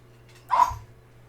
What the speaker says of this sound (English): That was the dog who was just scratching her own ear and toenailed herself in her ear